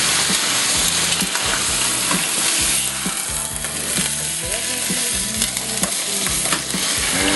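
Pot roast meat sizzles loudly in hot oil in a kitchen pot, with steady frying crackle and repeated scraping stir strokes throughout, no voices.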